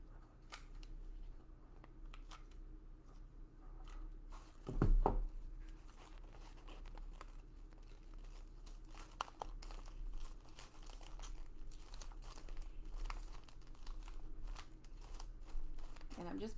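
Paper or card being folded back over and pressed down into wet glue for a pantry basket, soft crinkling handling with one louder crackle near the middle, close and quiet, with no talking.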